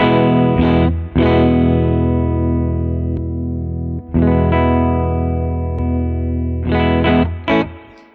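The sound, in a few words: electric guitar through germanium boost pedal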